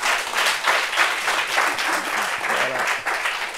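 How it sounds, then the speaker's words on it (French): Applause from a gathered group at a reunion, steady clapping throughout with some voices talking underneath. "En tout cas, on peut applaudir."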